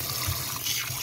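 Eggs being rinsed under a running kitchen tap, a short burst of steady splashing water, close and fairly loud with no talking.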